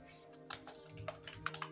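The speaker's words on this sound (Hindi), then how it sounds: "अब यहाँ पर हम कोई भी डेटा टाइप कर लेते हैं" Data being typed on a computer keyboard, a run of faint, close, irregular key clicks over a quiet background hum.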